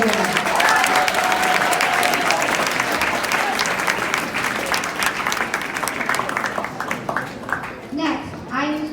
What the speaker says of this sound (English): Let's give one more round of applause to all of our award winners.